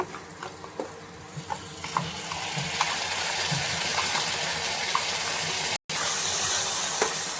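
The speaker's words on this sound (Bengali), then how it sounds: "এবারে দিয়ে দেব বেটে রাখা মশলাটা।" Ground spice paste goes into potatoes already frying in a pan for a Bengali rui fish curry with black cumin paste, giving a steady close sizzle with stirring scrapes and a short break near the end.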